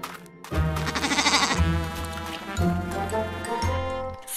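A goat bleats in a cartoon, a series of loud, wavering cries broken into several pulses, close and clear with no talk over it.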